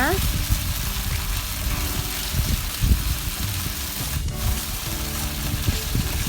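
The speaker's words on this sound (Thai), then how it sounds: "ผัดให้สุกเลยนะ" Steady sizzling and crackling of sliced pork stir-frying in a hot pan, with occasional scraping and stirring sounds throughout.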